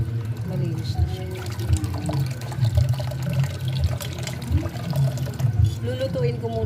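Shrimp being washed by hand in water during a third rinse, with continuous sloshing, splashing and trickling, close and fairly busy, while a voice talks over it.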